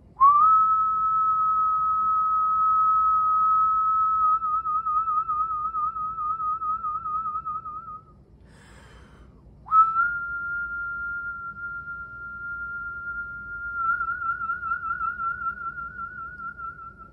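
A professional whistler holds long steady whistled tones as a vibrato warm-up, the pitch first plain and then wavering, broken by a short pause near the middle, loud and close with no talking.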